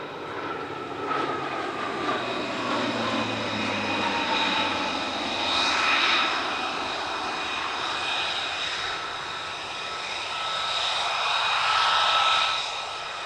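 A military jet flies a solo display at an Italian Air Force centenary airshow, its engine roaring and whining in repeated swells as it passes and turns, moderately loud and heard alone.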